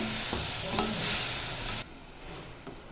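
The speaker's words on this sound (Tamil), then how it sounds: "இப்போது இந்த குழம்ப நல்லா கரைச்சி விட்டுன்ட்டு" Kuzhambu, a Tamil tangy gravy, being stirred and dissolved in a pot on the stove during Mahalaya Paksha cooking, with a steady scraping and sizzling hiss that drops away sharply partway through, then resumes more faintly.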